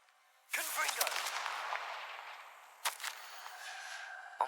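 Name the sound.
Confringo fire spell cast, from video game Hogwarts Legacy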